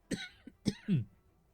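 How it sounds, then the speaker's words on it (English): Several dry coughs from someone who is sick, three or four short close bursts in quick succession, the last one rougher and throaty, with silence around them. "I'm still battling this cough."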